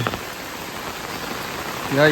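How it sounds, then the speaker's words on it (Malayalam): Steady rain patters throughout at a moderate level, with a voice starting to speak near the end. "അയ്യോ എന്താ മഴ"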